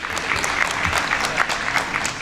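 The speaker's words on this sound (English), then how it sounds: "Can we applaud this young man's reflexes?" Audience applause at an African naming ceremony, a steady wash of many hands clapping close by that fills the whole stretch evenly without pause.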